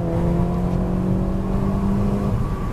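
A modified Honda Civic Si engine revs hard from inside the car, a loud, sustained droning whine that holds steady at high rpm as it pulls into VTEC, with no talking over it.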